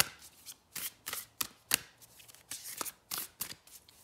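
Tarot cards being shuffled by hand, a series of quick riffling bursts of paper flutter in an uneven rhythm, close and fairly quiet, with no speech.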